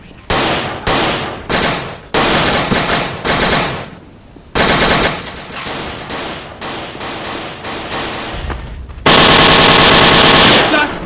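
Heavy gunfire in the video game Dino D-Day, loud close bursts of rapid machine-gun fire in several separate volleys with short gaps, ending in a long sustained burst.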